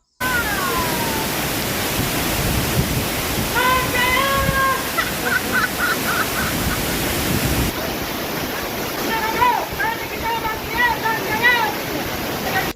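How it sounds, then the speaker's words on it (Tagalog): Itchbog Twin Falls in Camarines Sur roars as a constant loud rush of falling water, with bird calls chirping faintly over the steady wash. "Dito na nga pala tayo mga kaanoy sa Itchbog Twin Falls."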